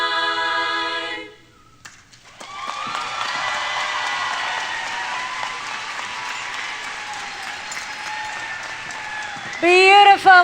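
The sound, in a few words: audience applause at commencement ceremony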